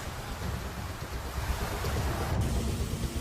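Heavy floodwater pours into a New York metro station after torrential rain, a dense continuous rushing roar with no break, broad and noisy throughout.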